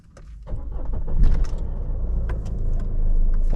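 A car engine with a turbo cranks and catches, rising into a steady close idle rumble after a few clicks and rattles at the start.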